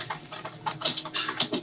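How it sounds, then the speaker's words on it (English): Computer keyboard typing during a Minecraft session, a quick irregular run of close, crisp key clicks with short gaps between them. "Oh my god, my typing is so loud."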